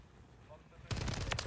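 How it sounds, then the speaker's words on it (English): STG-44 rifle fire in Modern Warfare 3: after a quiet, murky stretch, a sudden loud burst of rapid automatic shots cracks out in the last half-second, dense and close. "I absolutely love the sound of this weapon"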